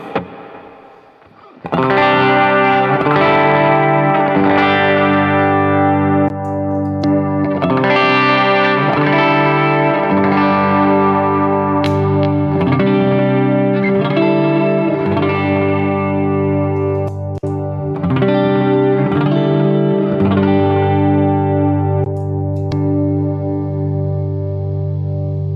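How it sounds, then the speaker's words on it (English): Electric guitar played through a hall reverb and light delay, comparing a Walrus Audio ACS1 with a Strymon Iridium, ringing sustained chords with long washy tails and echoes, loud and clean with no voices. "I've got a Hall reverb on, it's not too huge, and a little bit of delay."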